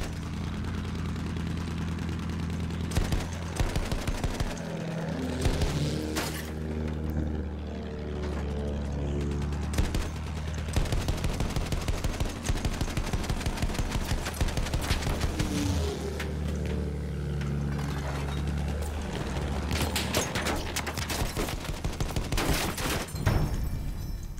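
Sustained machine gun bursts from an attack plane's gunner in a ground-support combat video game, rattling rapid-fire volleys over a steady engine drone, with denser bursts near the end.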